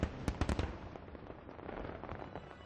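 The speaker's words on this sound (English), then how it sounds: "the Chinese New Year, also known as Spring Festival, is greeted by fireworks displays both great and small." Fireworks crackle and pop for Chinese New Year, starting with a quick cluster of sharp bangs and then trailing off into a faint, distant rumble of scattered crackling.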